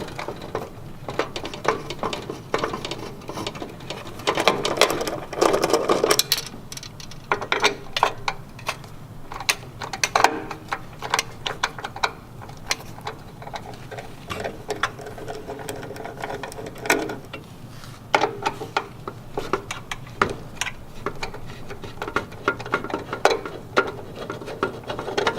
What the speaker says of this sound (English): remove 3 5/16 inch screws from the bottom casting in front